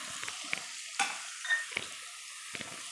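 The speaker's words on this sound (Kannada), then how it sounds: "ಈಗ ಇದಕ್ಕೇ ಒಂದು ಈರುಳ್ಳಿ ಕಟ್ ಮಾಡಿರೋದು ಹಾಕ್ತಾಯಿದ್ದೀನಿ." Chopped onion going into a hot pan for a ridged gourd chutney, with a steady soft sizzle of frying and a few sharp clinks of stirring against the pan, fairly quiet and close, with no talk.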